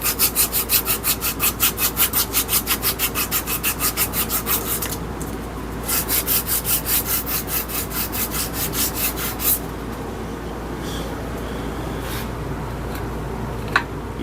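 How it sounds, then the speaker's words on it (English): Old hammer sanded by hand, rapid rhythmic scratchy back-and-forth strokes, close and loud, that pause briefly, resume in a second burst, then stop, leaving quieter handling noise. "Let's see if I can sand some of it off first."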